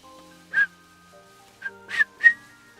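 A person whistles a few faint, thin notes in a quiet room, broken by several short breathy bursts.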